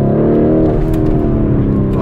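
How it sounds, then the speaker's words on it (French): A tuned Lamborghini Urus launching from a standstill and accelerating hard: a loud, close engine roar with rising revs and a rich low rumble, carrying on unbroken for a couple of seconds. "Voilà, la voiture décolle immédiatement."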